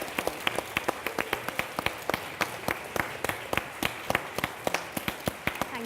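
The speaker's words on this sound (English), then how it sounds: "shall we have a round of applause for Francesca" Audience at a Big Read & Write event clapping for a speaker, a modest round of distinct individual claps, fairly sparse and close, with no talk over it.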